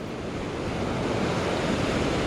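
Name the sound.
ocean surf waves breaking on the beach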